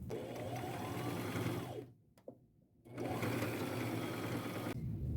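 A sewing machine stitches a straight seam on a boho maxi dress made from an old cover up, running in a steady whirring burst, pausing briefly near the middle, then resuming at a close, even pace.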